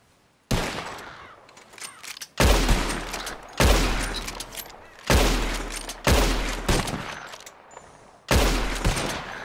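Gunshots ring out in a bird-shooting contest in Red Dead Redemption, six loud, close single blasts spaced a second or two apart, each with a long echoing tail.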